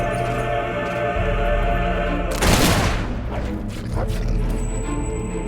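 A burst of gunfire rings out amid a dense battle soundscape near soldiers by the docks, one sharp loud crack followed by scattered reports over a constant rumbling background.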